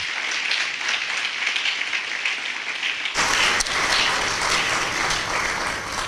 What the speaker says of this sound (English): the special prosecutor, deserves another round of applause from us